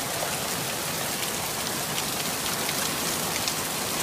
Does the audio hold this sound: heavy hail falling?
yes